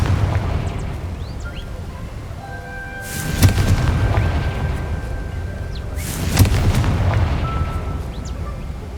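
Confringo fire spell explosions in Hogwarts Legacy, two loud booming blasts a few seconds apart, each with a rumbling tail, over game ambience with faint tonal chimes between them.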